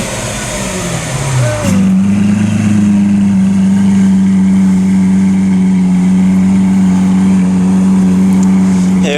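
Lamborghini Aventador with an aftermarket exhaust, first rising and falling in revs, then settling into a loud, steady, close-up engine drone that holds for most of the stretch.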